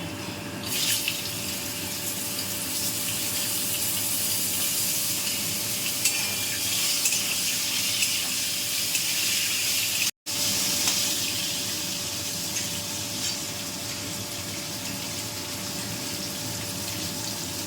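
Diced potatoes and eggplant fry in hot oil with whole spices for a traditional Bengali neem jhol, giving a loud, steady sizzle that runs continuously apart from one brief break.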